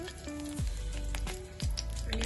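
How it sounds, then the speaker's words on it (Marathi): Cumin seeds sizzle and crackle in hot ghee, a steady close frying hiss with scattered sharp pops and occasional stirring scrapes, while a tonal hum runs underneath. "आता आपण याच्यामध्ये टाकूया थोडेसे जिरे. जिरे छान फुलून देऊया."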